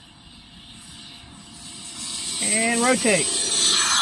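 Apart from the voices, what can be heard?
RC F-16 electric ducted fan jet at full throttle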